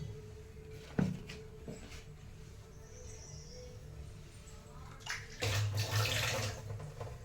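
Water sprinkled onto a hot dosa pan sizzles in a sudden bubbling, hissing burst near the end, after quieter kitchen clatter and a single knock earlier on.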